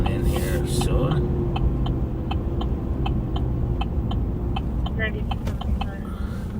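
A patrol car drives along and slows to pull in, its steady engine and road rumble filling the cabin with a constant low drone, while faint radio chatter and voices sit under the noise.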